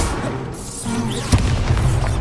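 Incendio fire spell cast in the Hogwarts Legacy video game: a loud whooshing burst with a sharp booming impact partway through, followed by rumbling effects in a busy game mix.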